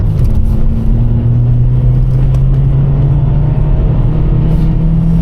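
A Vauxhall Corsa's engine pulls loud and close from inside the car, a steady rumbling drone that rises gradually in pitch as it accelerates through the gear, with no talk.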